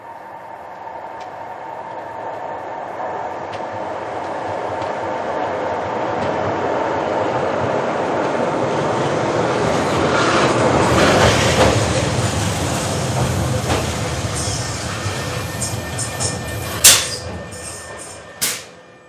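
A train running on rails gives a steady rolling rumble that swells to a peak midway and then eases, with a couple of sharp metallic clicks near the end and no voices.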